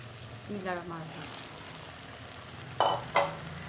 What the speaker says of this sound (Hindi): अब मैं इसके अंदर ये स्टीम किए हुए मटर डाल दूँगी।